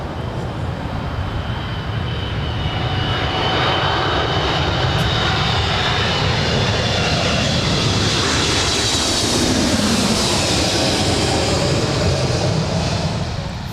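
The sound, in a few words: Emirates airliner flying overhead near LAX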